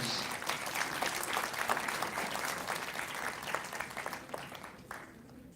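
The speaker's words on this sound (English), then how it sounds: "How about a round of applause to Mr. George?" An audience at a school language arts competition claps for the stage director, a broad, steady round of applause from many hands that thins out near the end.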